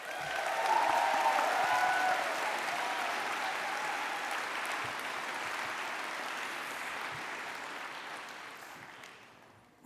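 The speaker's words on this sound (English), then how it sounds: "so give yourselves a round of applause" Graduation ceremony audience applauding, a dense sustained burst of clapping that starts strong and slowly fades over about ten seconds, with no speech over it.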